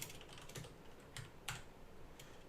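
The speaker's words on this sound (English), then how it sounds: "let me just type it" Keys tapped on a computer keyboard in a handful of separate, crisp strokes spaced irregularly over a couple of seconds, close and fairly quiet, with no voices.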